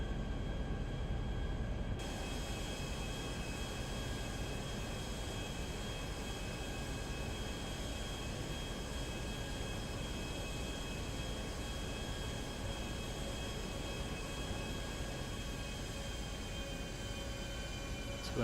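The Nimbus plane from GTA V cruises along with a constant, even engine drone and broadband rush that hold steady throughout, with no speech over it.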